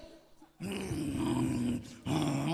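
A voice mimics a dog, producing a sustained rough growl with a brief pause before resuming, close and fairly loud.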